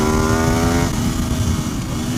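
An Aprilia RSV4 sport motorcycle on a racetrack, its engine a loud steady high-pitched whine that drops slightly in pitch partway through, with no talk.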